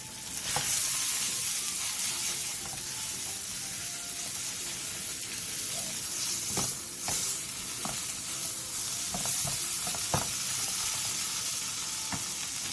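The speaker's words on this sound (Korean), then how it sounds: "팬에 기름을 두른 뒤 토란대를 넣고 가볍게 1," Taro stems are stir-fried in oil over high heat in a pan. A steady, loud sizzle and hiss runs throughout, with occasional stirring clicks, close and continuous, with no talking.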